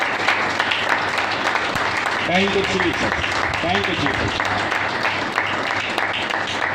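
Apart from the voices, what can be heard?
congregation applauding loudly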